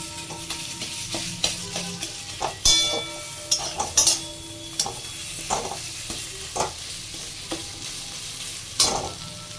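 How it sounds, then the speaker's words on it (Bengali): A spatula scrapes and knocks against a pan while fried hilsa fish head is stirred and broken up over a continuous sizzle, with irregular metallic taps, some sharp and loud, and no talking. "আর একটু রেখে ভালোভাবে নাড়াচাড়া করে তারপরে এটা আমি নামিয়ে নেব"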